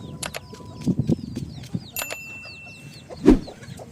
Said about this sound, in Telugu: కోళ్ళన్నీ తింటున్నాయి.